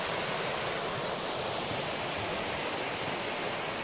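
River water rushes steadily at Whitewater State Park in Minnesota, a dense, loud and unbroken roar of flowing water heard close by with no voices.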